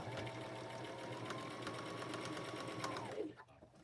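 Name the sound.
sewing machine stitching a jumper seam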